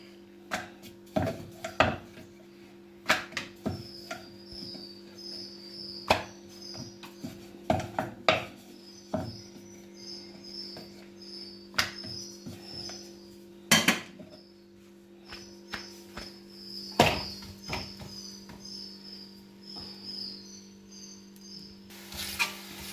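Multigrain chapati dough rolled out on a board, giving irregular light wooden knocks and taps as the rolling pin moves, with a steady low background hum throughout and no talking.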